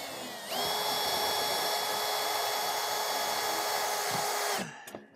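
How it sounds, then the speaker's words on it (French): Power drill driving self-drilling screws straight into a metal solar-panel mounting rail, one sustained high whine of about four seconds that cuts off abruptly, close and loud. "on va visser avec des autoforeuses"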